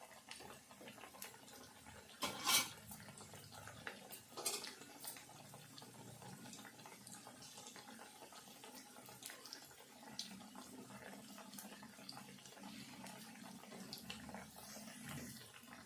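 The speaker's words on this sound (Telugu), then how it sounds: "నూనె వీన బుడగలు తగ్గేదాకా కాలనియాలి." Puffed rice garelu (fritters with onion) sizzle and bubble in hot oil over low flame, a steady close crackling hiss running throughout with a few sharper pops, no voices present.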